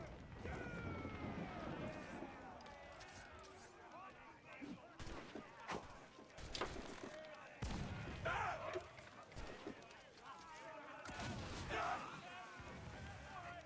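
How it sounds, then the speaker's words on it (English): Mortar fire from a sailing ship in the Assassin's Creed Freedom Cry video game, a string of sharp blasts and cracking volleys spread across the scene, mixed with creaking mechanisms, water and shouting voices. "Keep your distance and use mortars on the Wally"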